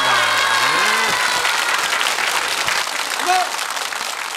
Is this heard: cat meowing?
no